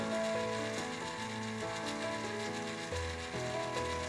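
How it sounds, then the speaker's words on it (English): Auger motor on a Breckwell pellet stove running continuously with no off period, a low, steady mechanical hum with faint shifting tones, heard alone and fairly quiet. "we see that the auger is just continually driving, no off period"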